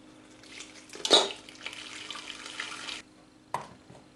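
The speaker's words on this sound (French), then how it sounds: "à l'aide d'un entonnoir, je vais mettre de l'eau jusqu'à ras-bord, enfin quasiment à ras-bord des pots à yaourt." Water poured through a funnel into a Cookeo multicooker holding yogurt pots, a close trickling splash that swells for about two seconds, then a brief final pour after a pause.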